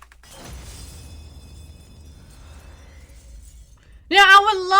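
Glass shatters in the Reverse 1999 game, a sudden crash followed by a tinkling scatter of fragments that fades out, then a voice speaks loudly right after.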